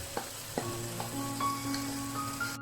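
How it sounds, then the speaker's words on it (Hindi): Boiled urad dal being fried with spices in oil in a pan, a steady close sizzle broken by several sharp scrapes of a spoon against the pan and a few clinks. "इसको थोड़ा सा मैं इसमें भूनूंगी, इतना भूनूंगी कि इसमें इसका ऑयल ज़रा ऊपर आ जाए"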